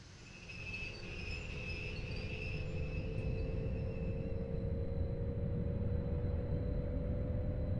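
A simulated train on the Luzern–Sursee line in Train Sim World 2 pulls away and runs with a steady rumbling roar that builds over the first second and holds, with faint whines and high squeals above it.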